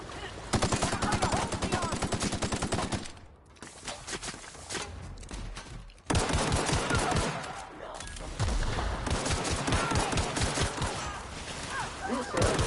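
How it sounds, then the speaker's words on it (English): Rapid bursts of pistol fire in The Outer Worlds video game, loud and dense, with a brief lull partway through before the shooting resumes. "So that pistol shreds."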